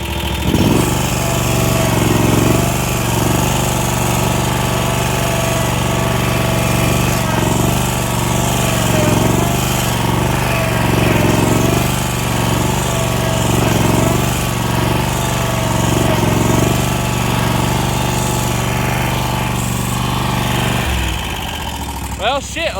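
A stuck golf cart's small engine revs hard and steadily at close range for about twenty seconds as its wheels spin, then cuts out near the end.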